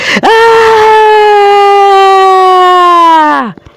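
A long, loud, sustained wailing scream in an audio drama, a single drawn-out cry held steady for several seconds before dropping away abruptly.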